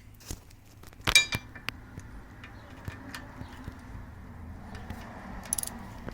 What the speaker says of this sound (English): Okay, that bolt just came out of here.